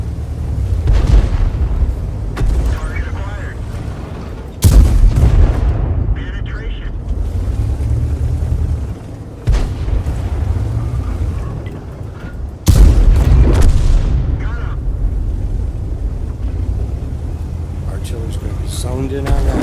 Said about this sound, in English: Artillery's gunning for me.